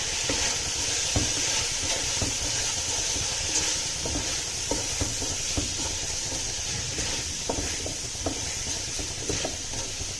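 Garam masala, coriander powder and cumin powder frying in a pan for veg dum biryani, a steady close sizzle with intermittent stirring scrapes and clinks throughout.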